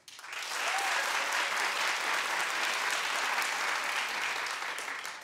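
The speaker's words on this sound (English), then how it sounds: "clap if you knew who Chanel was" Sustained applause from a TV talk show studio audience, steady and full for several seconds before tapering slightly at the end.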